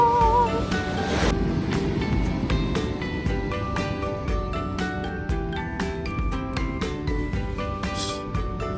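Surf rolls in at Clifton 4th beach in fall: a continuous wash of breaking waves with gusty wind buffeting the microphone, heard up close and fairly loud, with no talking.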